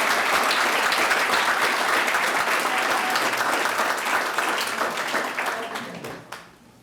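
Luncheon guests at an education event applaud, a full, dense round of clapping that holds strong and then thins out and fades over the final seconds.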